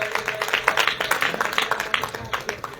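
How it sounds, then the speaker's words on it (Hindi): A congregation keeps up steady, rhythmic clapping at a Christmas church celebration, many hands beating together in a lively pulse, with a voice speaking over the applause. "ताली रुकनी नहीं चाहिए"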